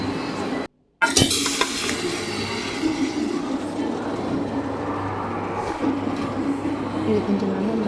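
Boiled mutton being stirred and mixed with a spoon in a hot pan, a continuous close scraping sizzle that runs almost the whole time after a brief silent gap near the start.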